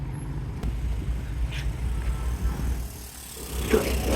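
Heavy road traffic rolls along a Karachi service road, a continuous low rumble of passing cars and trucks with a few brief higher clanks and hisses, moderately loud, with no one talking.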